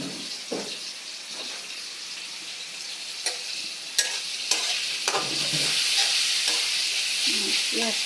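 Chopped onions fry in hot oil in a pan while a spatula scrapes and stirs them, giving a steady sizzle broken by sharp clicks and scraping strokes, close and with no talking.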